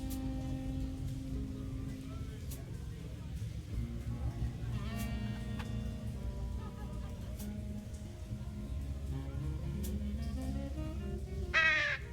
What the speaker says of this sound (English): Come on, birds.